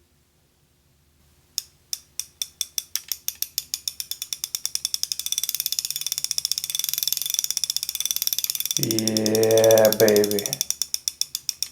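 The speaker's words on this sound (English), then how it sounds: "look and listen to the spool paying line. I'm gonna start gently pulling the line" The drag on a 2021 Shimano Complex XR fishing reel clicks as line is pulled off. The sharp, close ratcheting clicks start slowly and speed into a steady rapid run, and a voice cuts in briefly near the end.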